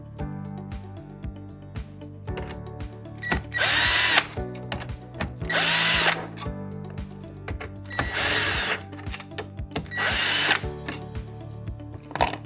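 Power drill whirring in four short, loud bursts to back out stereo bolts from a Jeep Wrangler JK dash, with clicks and handling noise in the gaps.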